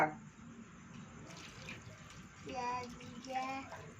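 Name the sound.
water running while washing hands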